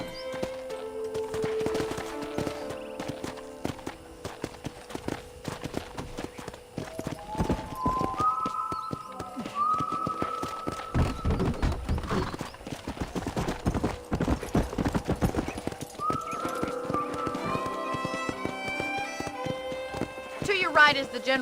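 Horse hooves clip-clop in a steady trotting rhythm throughout in the video game Red Dead Redemption, with people talking over them and brief tonal musical notes rising in the background.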